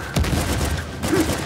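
Gunfire from the Uncharted 4 video game, with a grenade and shotgun in play, cracks out as a sustained burst of shots at fairly steady loudness through the short stretch.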